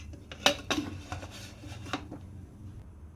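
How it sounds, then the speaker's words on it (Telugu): A metal lid is set onto a pressure cooker holding boti (goat tripe) on a stove, giving a few sharp clanks and rattles close by, then quieter handling, with no talk. "ఇప్పుడు కుక్కర్ పైన మూత పెట్టుకోవాలి."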